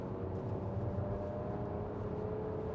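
A Nissan X-Trail SUV engine drones steadily and fairly quietly in sport mode, its pitch creeping slightly upward as it revs, heard from inside the vehicle.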